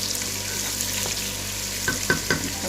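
Onions fry in a pan until light brown for a chana dal tarka, giving a steady close sizzle, with a few sharp knocks of stirring near the end.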